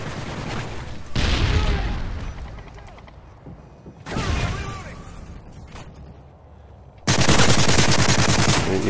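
Bursts of automatic rifle fire from a multiplayer shooter video game come in loud, sustained volleys separated by quieter stretches, with players talking over the action.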